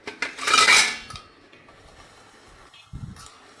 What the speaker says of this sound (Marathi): भांडं धुवायला लागले